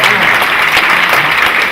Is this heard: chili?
no